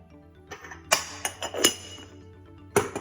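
A spoon stirring salt into chopped broccoli and cauliflower in a bowl, heard as several sharp clinks and knocks at irregular intervals over quiet background.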